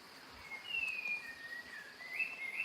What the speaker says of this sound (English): Not every day that we can listen to a spot-winged thrush quite close by like this.